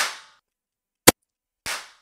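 Gunshot in the video game Tomato Civil War: one short, sharp, loud crack standing alone, set between two softer hissing bursts.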